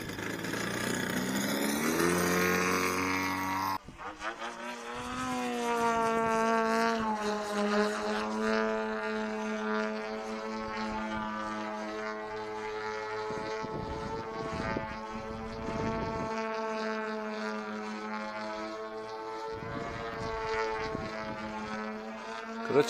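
A DA120 petrol engine on an EF 104 Laser model plane runs steadily and loudly close by, with a high buzzing drone after a brief rougher start, the pitch wavering slightly as the throttle shifts.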